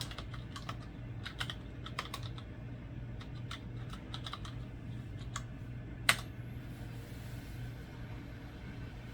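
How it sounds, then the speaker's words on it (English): Keys clatter on the keyboard of a Dell OptiPlex GX110 Pentium 3 computer, typed at an awkward angle in short irregular bursts over a steady low hum, with one sharper click near the end. "Typing from an awkward angle."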